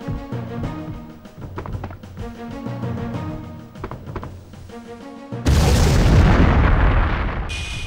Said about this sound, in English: The other upgrade being a completely broken time bomb that,